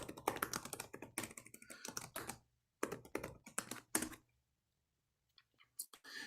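Typing on a computer keyboard: quick runs of close, crisp key clicks in bursts, separated by short pauses and a longer gap near the end, with no talking.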